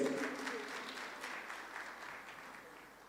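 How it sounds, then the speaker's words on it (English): A conference audience at a Sun City resort gives a round of applause for a live band, the clapping fairly faint and distant, starting fuller and gradually tapering off over a few seconds. "Can we give them a round of applause?"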